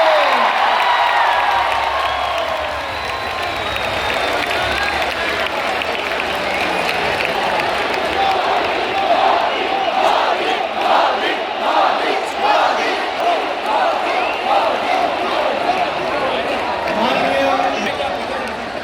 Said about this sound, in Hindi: अपने स्थान पर खड़े होकर जोरदार तालियों के साथ स्वागत अभिनंदन करें